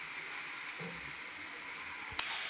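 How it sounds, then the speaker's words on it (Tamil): Tomato, onion and grated coconut fry in a hot pan for a misal masala, giving a steady, even sizzle at moderate level, with one sharp click near the end and no voices. "இப்போ தக்காளி, வெங்காயம், டொமேட்டோ, தேங்காய் எல்லாம் போட்டு நல்லா ஃப்ரை பண்ணிக்கணும்"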